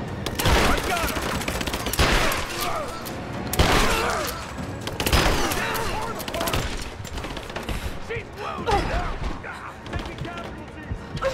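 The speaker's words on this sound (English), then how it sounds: "So 4 is the shotgun" Shotgun blasts and other gunfire in Rise of the Tomb Raider during a chaotic fight near a cathedral, heavy bangs landing at irregular intervals under a busy mix of game noise and talk.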